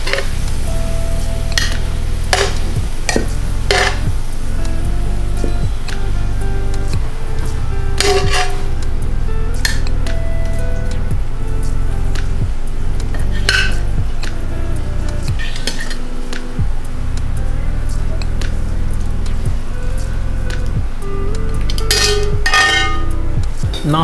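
Sautéed oxtail goes into a Crockpot amid a busy run of sharp metal clinks, scrapes and taps of utensils against pots, loud and close, with a faint sizzle underneath.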